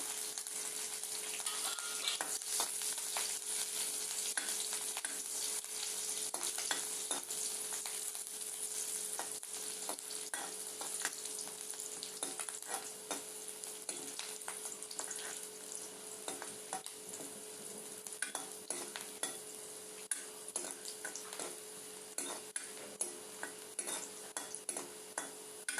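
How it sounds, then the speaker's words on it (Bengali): Chopped green chilies and ginger fry in a hot wok with a steady crackling sizzle, while a utensil stirs and clicks against the pan now and then. No one speaks. "কাঁচা লঙ্কা আর আদা কুচিগুলি আমি কড়াইয়ে দিয়ে দিলাম।"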